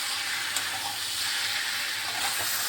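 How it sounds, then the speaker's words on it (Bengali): Giant taro and ridge gourd frying in oil with sugar, a steady close sizzle and hiss of the pan running throughout with faint stirring scrapes and no voices. "এই যে কচু ঝিঙে এর মধ্যে একটু চিনি চলেছে, চিনিটা দিয়েও আমি ভালোভাবে ভাজা ভাজা করে নিচ্ছি।"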